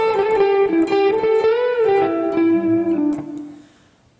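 An electric guitar plays a blues run with pull-offs, a quick string of bent and sliding single notes with a light overdriven tone, loud and alone, fading out at the end.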